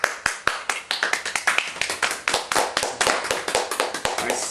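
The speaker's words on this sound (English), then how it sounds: "Nice slow 80s clap." A slow, steady clap from an audience, single sharp claps ringing out one after another at a deliberate, fairly even pace, gradually quickening and overlapping slightly toward the end, with no talking.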